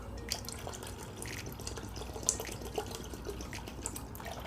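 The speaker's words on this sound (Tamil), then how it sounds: "இப்போ மோருக்கு தேவையான அளவுக்கு நம்ம தண்ணி சேர்த்துக்கலாம்." Water is poured into curd to make buttermilk in a home kitchen, a soft, quiet trickle with a few faint drips and splashes.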